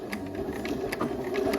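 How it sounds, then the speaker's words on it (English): Sewing machine stitching the inner leg seam of luxe pajama pants with a 5/8 inch seam allowance and zigzag stitch, a steady close mechanical whir with a fast needle rhythm running throughout, no voices. "we're at the sewing machine and we're gonna, again, stitch from the bottom to the top of our pants"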